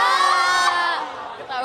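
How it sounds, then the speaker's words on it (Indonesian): A live theater audience of fans at an idol trainee show shouts a name in unison, one loud, sustained cheer that trails off and then rises again. "Teriakin Fritzy"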